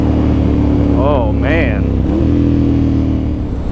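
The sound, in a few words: 2009 Ducati Monster 1100 motorcycle engine revving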